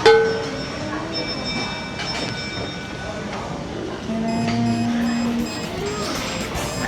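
A low mechanical whir and soft rumble of a small sushi conveyor train rolling up to the table, with restaurant chatter and clatter in the background.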